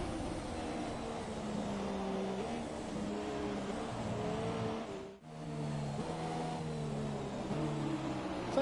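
A Formula 1 car in the F1 2017 game on the China circuit, its engine droning steadily with shifting pitch and rising revs, a brief dip where it shifts gear, then a climb again, loud and continuous.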